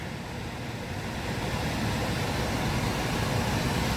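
Climate fan of a Chevy Bolt EV, with propulsion power reduced from a high-voltage battery fault, blasting as a loud, steady broadband whoosh that swells slightly and holds without talk.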